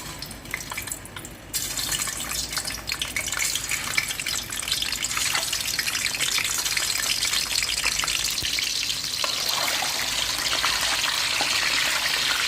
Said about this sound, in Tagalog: Iprituhin natin saglit guys